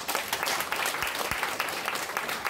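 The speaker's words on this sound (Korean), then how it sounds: "박수로서 환영하겠습니다" An audience at a civic debate forum applauds to welcome the host, a thick, even patter of many hands that continues throughout at a moderate, somewhat distant level.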